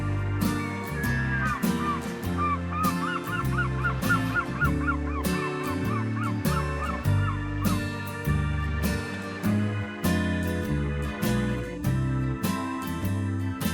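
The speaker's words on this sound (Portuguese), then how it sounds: "ouvir o canto das gaivotas" Seagulls call repeatedly by a stone breakwater on the sea, their cries rising in quick bursts over a steady, dense musical backing that runs throughout.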